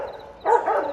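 A single short dog bark, close and fairly loud, follows a brief quiet moment indoors.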